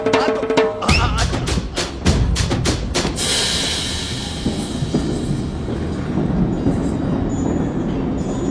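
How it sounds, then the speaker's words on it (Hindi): A train pulls out of a station in a film scene, with heavy clanking wheel beats in the first few seconds giving way to a rolling rumble and faint high metallic squeal as it moves off. "मेरी ट्रेन छूटी जा रही है"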